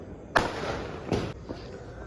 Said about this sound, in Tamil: ஸோ இந்த பக்கம் தான் அதிகமாக டப்பாஸ் வச்சுட்ருக்காங்க